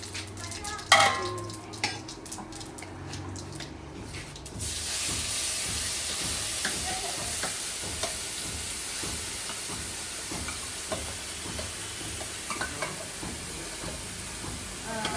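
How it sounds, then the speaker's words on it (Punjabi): Tempering spices crackle and sizzle in hot oil for black chickpeas, a steady frying hiss with occasional pops and clatters of stirring, no voices. "ਇਧਰ ਤੜਕਾ ਲਾਉਣੇ ਆਗੇ"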